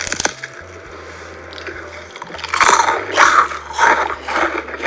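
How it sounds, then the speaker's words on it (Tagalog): Crunchy Filipino biscocho is bitten and chewed up close, with several loud crackling crunches coming in bursts over a low background hum. "And just to show you how crunchy it is"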